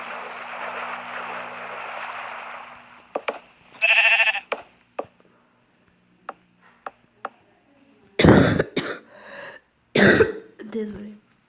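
Sheep bleats and bursty blast-like noises from Minecraft Pocket Edition come in scattered bursts, with a steady hiss early on and loud crackling explosions near the end.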